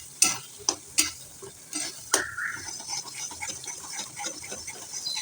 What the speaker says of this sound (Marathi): आपल्याला त्याला व्यवस्थित आता परतून घेऊया